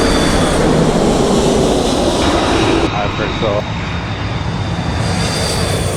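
A fixed-wing airliner coming in to land near LAX roars loudly overhead, a heavy engine rumble that holds and then eases off, heard outdoors from a slow electric motorcycle with someone speaking briefly over it.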